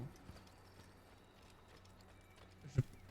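Horse hooves clop faintly in the Assassin's Creed video game, with a single louder hoof strike or thud near the end over a low background hum.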